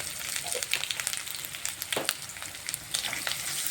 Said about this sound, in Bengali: এই যে লঙ্কাটা আদাটা ভাজা হচ্ছে